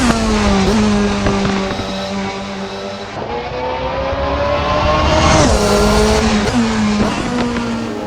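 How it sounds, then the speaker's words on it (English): A Super GT race car in the Assetto Corsa racing game screams through a lap, its engine whining high and steady, dipping and climbing with gear changes and corners, loud throughout. "that Super GT car was incredibly impressive with its lap time"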